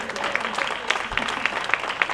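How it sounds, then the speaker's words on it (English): A small audience at a livestreamed evening event gives a round of applause for a performer, steady clapping at moderate distance with a few sharper individual claps standing out. "can we give a round of applause for Chelsea"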